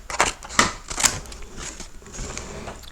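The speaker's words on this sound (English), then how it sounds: "I'm going to cut this right here" Scissors cutting paper for a craft card, a few crisp close snips followed by softer rustling of the paper.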